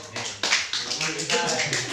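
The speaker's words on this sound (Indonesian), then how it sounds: "Tepuk tangan untuk" Classroom applause from students during a microteaching lesson on ASEAN countries, a dense burst of clapping lasting about two seconds at moderate loudness, with voices mixed in.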